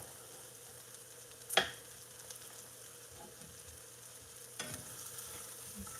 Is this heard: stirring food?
yes